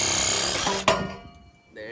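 A power tool cuts the muffler off a 2003 Infiniti G35, a loud, close grinding buzz that stops abruptly with a sharp clank, followed by a brief lull and a faint restart.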